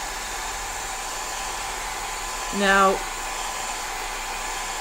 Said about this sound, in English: So I'm going to use my blow dryer and see if I can hurry it up a little bit.